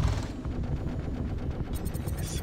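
Rapid bursts of gunfire from the video game Star Citizen rattle steadily through the whole stretch, dense and continuous, with no talk over them.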